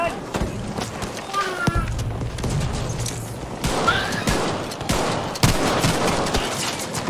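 Gunfire rattles in Battlefield V as bursts of shots and impacts crackle through the mix, while players talk excitedly over the action.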